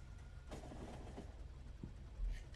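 Train running in the Factorio game, a steady low rail rumble with soft clicking transients throughout, moderately faint and heard alone without talk.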